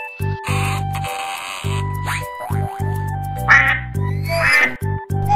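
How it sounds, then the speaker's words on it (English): A duck quacks in a series of loud, close, bouncy honks with short gaps between them, rising and falling in a rhythmic cartoon-like pattern and heard alone without talk. "Ducks waddle."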